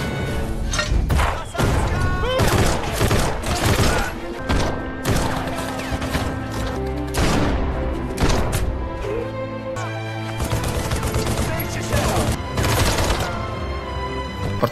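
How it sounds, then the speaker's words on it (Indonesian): A gunfire exchange between Soviet soldiers and Nazi forces in a World War II war film: loud, dense bursts of shots, thuds and crashes clustered in volleys across the whole stretch, with a short lull partway through. "Baku tembak pun tidak dapat dihindari."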